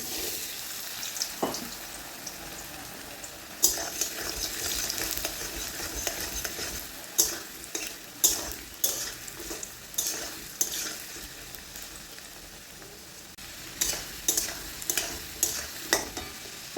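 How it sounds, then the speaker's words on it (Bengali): Small-diced potatoes hitting hot oil and frying, a steady hissing sizzle broken by repeated scraping stirs and spatula clacks, close and fairly loud with no voices. "তেল গরম হয়ে গেলে তেলের মধ্যে দিয়ে দেবো আগে থেকে কেটে রাখা আলু"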